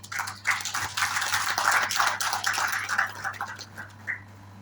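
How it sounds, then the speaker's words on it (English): Audience at an education exhibition applauding, a dense crackle of many hands building to a full patter and then thinning out toward the end, with a low steady hum underneath. "Please give a round of applause."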